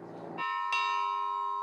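A church bell salvaged from an earthquake-destroyed church rings out at a civil protection emergency camp in Italy: two loud, close strikes with bright metallic overtones that hang and ring on without any voices.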